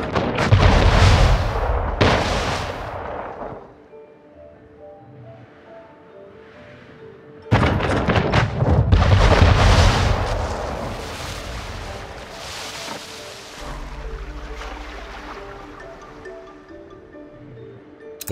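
Cannons boom in a ship attack in the video game Anno 1800, with two clusters of heavy blasts and rumbling explosions separated by quieter stretches of lingering ambience.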